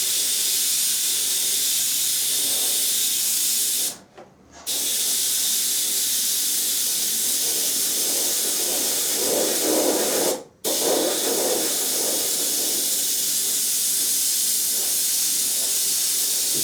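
Continuous airbrush spraying paint over a gray base coat, a steady close hiss of air and overspray that cuts out briefly twice before resuming.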